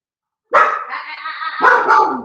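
A dog barks loudly and close up in one sustained, rough bark-howl that breaks into a second burst, standing alone without talk.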